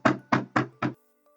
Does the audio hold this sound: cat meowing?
no